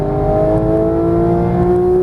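A Porsche GT3 on a Las Vegas track pulls hard under acceleration, its engine note a loud, steady tone rising slightly as it climbs, heard from inside the car.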